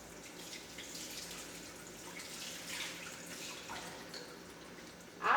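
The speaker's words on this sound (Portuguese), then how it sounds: "E nós vamos enxaguar as mãos." Running tap water as hands are rinsed under it, a soft steady splashing hiss that stays moderate throughout and ends with a brief louder burst.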